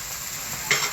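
Food is stirred in a small pan during cooking, with a steady sizzle of frying and a brief louder scrape from the stir near the end, close by and without talk.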